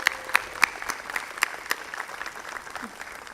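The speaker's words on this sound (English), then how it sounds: "Everyone at MECOP should get a round of applause" Audience at a Night in Oaxaca 2022 community celebration applauds a local group, MECOP, with scattered claps and a few sharper peaks, moderately distant and thinning out toward the end.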